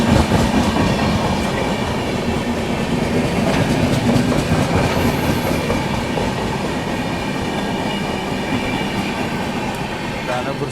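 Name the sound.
Delhi–Rajgir Shramjeevi Express train running on the tracks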